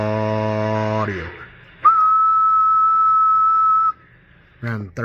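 A long, steady high-pitched whistle into a Galaxy DX 93T SSB/AM CB radio microphone sounds loud and close, held for about two seconds, with brief buzzy tones before and after.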